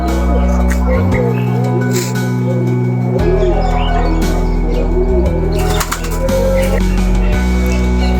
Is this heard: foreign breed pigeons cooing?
yes